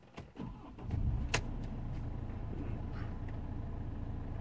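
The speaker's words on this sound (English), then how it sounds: "I'm going to start the engine." A Mercedes W212 E250 with a DPF fault in limp mode starts up with a brief cranking burst, then settles into a steady, close, continuous low idle rumble.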